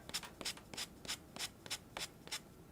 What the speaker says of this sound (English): you are sanding that paper, so the ink is coming off